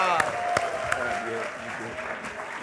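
A live audience at a talk event applauds steadily throughout, a dense wash of clapping with a few sharper individual claps standing out, while someone speaks over it.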